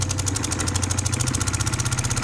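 A homemade wobbler steam engine runs close by at around 1,000 RPM, giving off a fast, steady, evenly pulsing chuff with a metallic mechanical knock and no voices.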